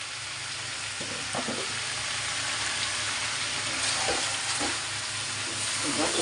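Coriander and cumin powder are stirred into chicken frying in a pan with red radish, giving a steady close sizzle punctuated by a few scraping stirs.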